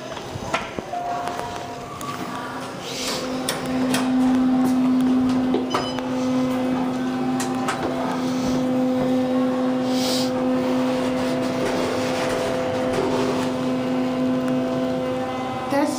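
An Otis Series 5 hydraulic elevator at a Hilton Garden Inn runs with a steady humming drone and a sustained mid tone, with occasional clunks and a person talking near the start.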